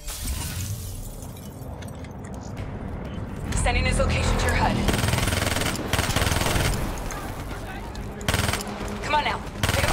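Rapid automatic gunfire in the Black Ops 3 campaign, bursts of dense clattering shots with loud impacts and crashes, a voice speaking over the din.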